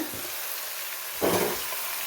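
Grated carrots sizzle in ghee in a pan that is shaken by its handle, giving a steady soft frying hiss that swells into a brief louder rush of sizzling.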